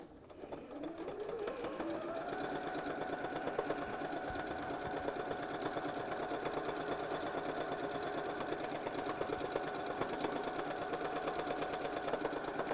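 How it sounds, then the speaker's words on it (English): A sewing machine stitching binding onto a quilt, running steadily and close for the whole stretch after a brief ramp-up at the start. "And I'm just going to sew, leaving that 1/4 inch."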